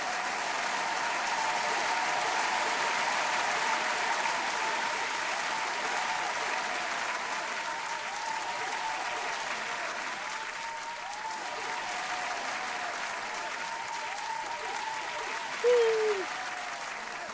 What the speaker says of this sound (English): Guys, can we get some claps?